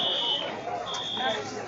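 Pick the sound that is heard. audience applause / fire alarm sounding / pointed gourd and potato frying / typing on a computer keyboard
fire alarm sounding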